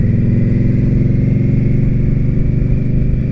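An Indian Scout Bobber motorcycle engine idles close by, a loud, steady, even low throb that holds a constant rhythm throughout.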